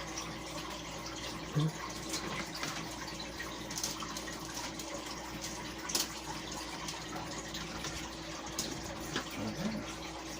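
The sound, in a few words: water running from tap while washing up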